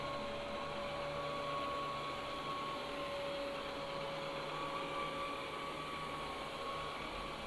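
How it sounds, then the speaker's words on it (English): A Tineco Carpet One smart carpet cleaner runs steadily while cleaning a stain on carpet, a continuous loud motor whine with suction hiss and faint tonal hum, unbroken throughout with no talking. "Let's respond with our carpet cleaner,"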